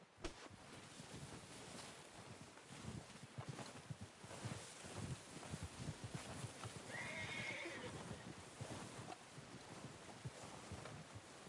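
A horse in the video game Red Dead Redemption 2 gives a clear whinnying neigh midway, amid steady clip-clopping hooves and light wind, with no talking.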